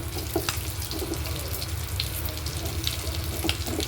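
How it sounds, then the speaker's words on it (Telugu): Chicken fries with chilli powder and salt in a pan, giving a steady moderate sizzle with scattered small pops and crackles and no voices. "ఇది బాగా ఫ్రై చేసుకున్నాం."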